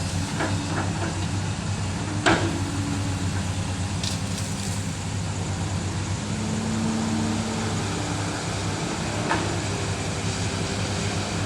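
A CAT 320 V1 excavator engine drones steadily at low pitch at full throttle, digging laterite soil, with a few sharp clanks and brief higher whines over the constant rumble; no voices.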